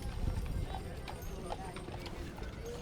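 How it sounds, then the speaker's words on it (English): Hooves of a 7-year-old paint draft horse clip-clop steadily on the street as it pulls a high-wheeled show cart in a Christmas parade, with crowd chatter and voices running throughout. "a high-wheeled show cart being pulled by Oreo, a 7-year-old paint draft horse"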